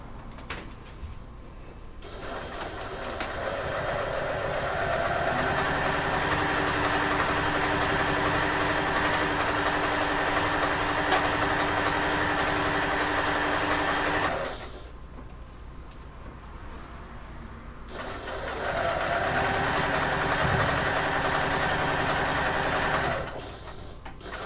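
A sewing machine top stitches a wallet in two steady runs, a long stretch of fast, even stitching, a short pause while the work is turned, then a second run. The machine is close and there is no talking.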